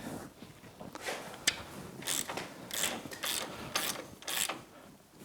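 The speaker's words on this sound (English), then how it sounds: "Go ahead and get this castle nut started." A ratchet clicks steadily as a castle nut is turned onto the wheel hub of a Yamaha YXZ1000R side-by-side, with short bursts of pawl ratcheting repeated in a rhythm, close and fairly quiet.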